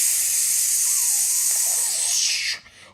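A voice imitates a pressure cooker's steam hiss with a long, loud, breathy 'psss' that holds steady, then cuts off abruptly.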